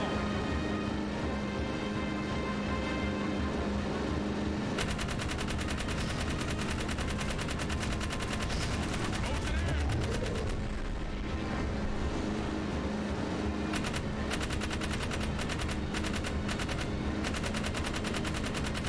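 Sustained rapid gunfire in the Jak 3 video game as enemies are shot down, dense machine-gun bursts over game engine and vehicle rumble, loud and continuous throughout with no talking.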